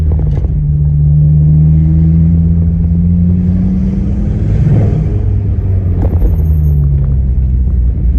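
A Ford Focus ST225 with a fault, driving and boosting, its engine rumbling steadily up close with a rising and falling drone as it accelerates, no talk over it.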